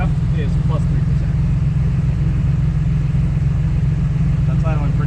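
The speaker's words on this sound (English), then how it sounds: "That's idling pretty smooth right there." A 1993 GMC Typhoon engine idles smoothly and steadily, a close, continuous low rumble with an even pulse and no talking over it.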